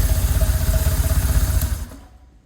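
A BMW R1200 C motorcycle engine idles in a rhythmic, pulsing thrum, then is switched off and fades to silence after about two seconds.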